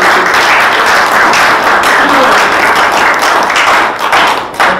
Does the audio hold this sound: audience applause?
yes